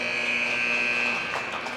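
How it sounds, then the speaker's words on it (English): Hockey rink buzzer sounding the end of the first period in a 15U game, a loud steady electronic tone held for over a second, then cutting off into arena noise. "with that buzzer, we've got the end of the first period."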